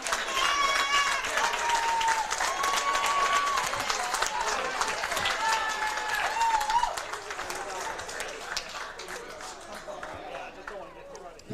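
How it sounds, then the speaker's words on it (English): Crowd applause at a high school boys' bowling championship as the runner-up team receives medals and a trophy, sustained clapping mixed with a commentator talking over it and background chatter in a bowling alley. "Getting applauded as they will receive their medals and their runner-up trophy"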